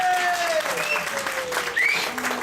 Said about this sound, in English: Let's give a round of applause to JLo!